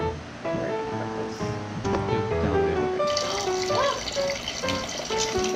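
Tap water runs steadily to rinse limes for escabeche in a home kitchen in Belize, a continuous splashing wash with clinks and handling sounds, growing brighter and louder partway through.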